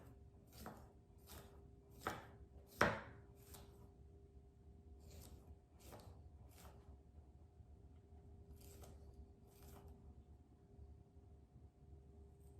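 A knife chopping bell peppers on a board: a run of quick crisp cuts, then a pause and a few more spaced strokes, close and clear over a quiet background with a faint steady hum.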